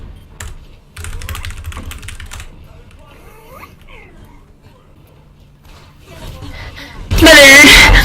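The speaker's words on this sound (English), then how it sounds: "wish I was better at typing that." Keys clatter on a computer keyboard in short bursts of typing, fairly close, with quiet gaps between runs and a loud vocal outburst at the end.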